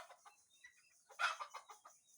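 Native country hens cluck in a pigeon and poultry coop, a run of short, fairly close clucks with a sharper louder call midway, no talking.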